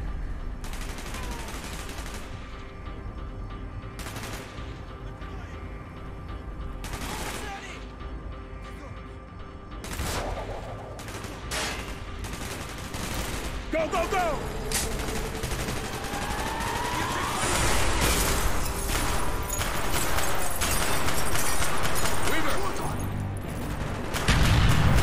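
Gunfire in the video game Call of Duty: Black Ops rattles in bursts and single shots throughout, with sharp cracks and distant booms building in intensity toward the end.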